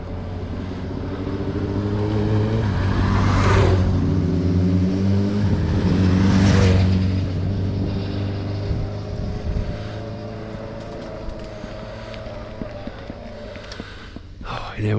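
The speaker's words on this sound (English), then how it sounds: "Just going to switch my engine off a minute." Motorbike engine labouring up a steep incline on a nature ride, a near engine drone that swells twice in revving surges before settling into a lower steady run.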